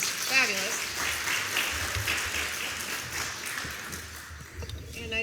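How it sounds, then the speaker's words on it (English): A banquet crowd at a McMinnville Chamber legislative forum applauds steadily in a ballroom, a dense patter of clapping that fills the room while a voice briefly speaks over the start. "Let's give them a hand of applause."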